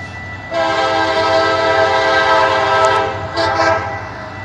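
Tri-Rail train 721 sounds a loud sustained horn blast as it arrives to meet a switcher, followed by a shorter second blast over the rail rumble.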